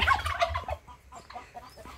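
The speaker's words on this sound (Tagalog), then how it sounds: "yun yung mga pabo, mga manok dyan" Turkeys gobble loudly in a rapid burst close by, followed by quieter, more distant gobbles and clucks.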